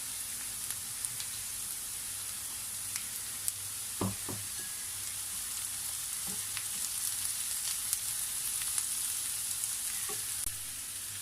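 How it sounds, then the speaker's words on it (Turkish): Soft, steady sizzling of peppers frying on top of browned onions in a pan, with a few faint clicks and scrapes of stirring scattered through. "İyice kavrulan soğanlarımın üzerine biberlerimi koyuyorum."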